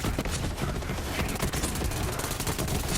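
Kaoson submachine gun in Borderlands 3 firing in a dense, rapid, unbroken burst of loud shots that fills the whole stretch with no pauses.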